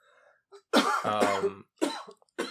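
A burst of harsh coughing and throat clearing, several rough hacks in quick succession, close and loud.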